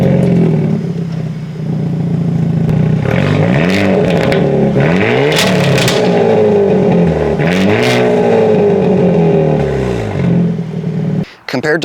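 A Hyundai Elantra N performance car with a stock exhaust revs loudly and close, its engine pitch repeatedly sweeping up and dropping back through several sharp blips before cutting off abruptly at the end.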